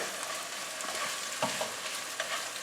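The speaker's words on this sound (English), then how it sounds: "I'm going to add the onions. And I'm just going to give this a little stir" Onions fry and get stirred in hot oil for an Indian coconut fish curry, with a close, continuous sizzle and occasional scraping stirs, no voices.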